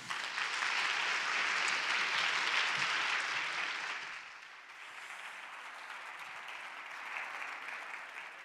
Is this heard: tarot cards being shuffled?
no